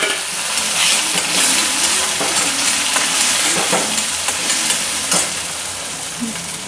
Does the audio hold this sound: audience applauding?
no